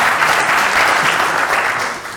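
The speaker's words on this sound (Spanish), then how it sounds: "darle las gracias y un aplauso" Audience applause fills a book presentation hall, a steady dense clatter of many hands clapping close by for about two seconds, tapering slightly at the end.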